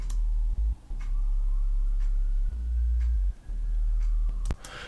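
Deep sub bass sine tone from a Serum software synthesizer, played as repeated sustained notes with brief gaps, loud and close with no voices.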